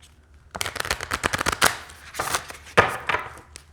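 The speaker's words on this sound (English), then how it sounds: "you can shuffle from both ways" A deck of Goddess oracle cards is shuffled by hand in rapid riffling bursts, close and crisp, with quick flutters of cards slapping together and short pauses between passes.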